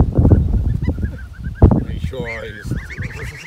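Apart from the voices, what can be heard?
geese honking on a meadow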